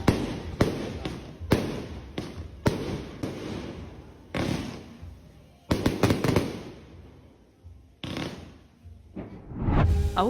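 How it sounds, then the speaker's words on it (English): Fireworks blasting right outside a room window in a Spanish town along the Camino de Santiago, a rapid string of loud, sharp pops and bangs in irregular bursts with brief lulls between them. "what I didn't anticipate were the blasts of fireworks popping off right outside the window of our room"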